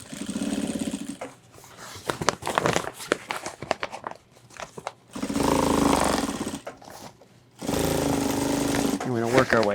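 A sewing machine stitches the seam of a lightweight 30-litre hiking backpack, running in loud bursts of a few seconds each with pauses between them and a voice talking in the gaps.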